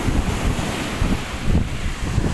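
Sea waves and wind at a beach, a continuous rushing surf with gusty wind buffeting the microphone, loud and close throughout with no voices.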